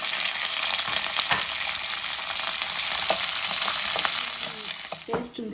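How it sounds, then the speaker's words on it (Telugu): Onions, green chillies and curry leaves fry in hot oil for a South Indian paneer gravy, making a steady loud sizzle with occasional stirring scrapes, close up and without speech. "ఆయిల్లోని మనం ఆనియన్స్, గ్రీన్ చిల్లీస్, కరివేపాకు వేసి ఫ్రై చేసుకుంటామండి."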